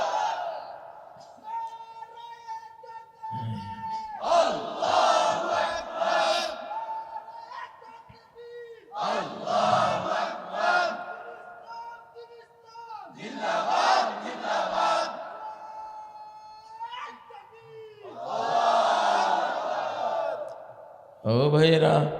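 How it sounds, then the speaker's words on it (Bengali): A crowd at a Bangla waz gathering roaring the takbir in response to a preacher's call, several loud massed bursts of voices alternating with a single man's calls. "জমিন আকাশ কাঁপানো একটা তাকবীর দেন, নারায়ে তাকবীর।"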